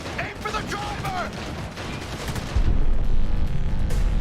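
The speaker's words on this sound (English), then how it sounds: "Gun shoots slow, man." Gunfire during a car chase in the video game Cyberpunk 2077, dense sustained shots and booms, growing louder midway, mixed with game voices and action noise.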